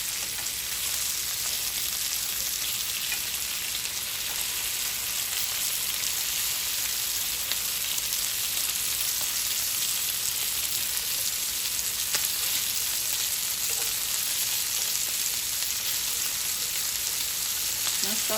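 Southern breakfast potatoes fry in a pan on a stovetop, giving a soft, even sizzle that crackles steadily throughout at low volume, with no voices.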